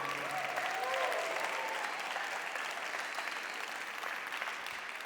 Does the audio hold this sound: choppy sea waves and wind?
no